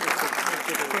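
A burst of crowd applause at a community gathering in Patna, a dense crackle of many hands clapping together for about a second.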